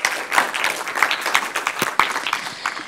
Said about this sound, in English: let's give Mushon another big round of applause for his great talk.